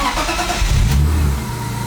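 Supercharged BMW E36 M3 on a VEMS standalone ECU cranks briefly and fires, settling into a loud, steady, high idle close by with no talk.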